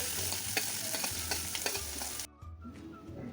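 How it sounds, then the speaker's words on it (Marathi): Finely chopped onions sautéing with spices for aloo matar bhaji, giving a constant sizzle broken by irregular spatula scrapes, close by; the frying noise drops sharply near the end but a softer stirring continues. "चांगलं परतल्यानंतर यामध्ये 2 मोठे बारीक चिरलेले कांदे घालायचे आहेत."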